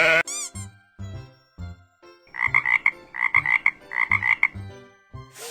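A frog croaks in three quick bursts of rapid, loud, rhythmic calls, with a person's voice heard before and after the croaking.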